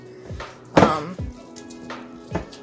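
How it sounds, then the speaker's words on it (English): Canned black beans are mashed into a paste with a few soft thuds and squishes, roughly five separate strokes with one louder impact, close by, against a quiet background with faint household voices. "a can of black beans that I'm going to mash down"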